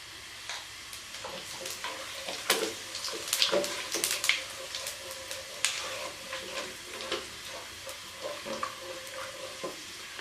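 Cumin seeds sizzling in hot oil, a steady crackling fry with scattered sharp pops and ticks, moderately quiet and close, with no voices.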